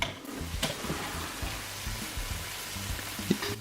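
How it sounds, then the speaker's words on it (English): Steady crackling sizzle of sandwiches frying in a pan, fairly quiet and continuous, with a few small pops and faint background clatter. "Normally your sandwiches are ready if they stop sizzling."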